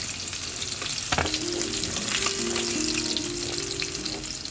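Fish heads, cut into small pieces for a Bengali muri ghonto, fry steadily in hot oil, giving a dense, close crackling sizzle that continues throughout, with brief clinks and scrapes from a utensil along the way.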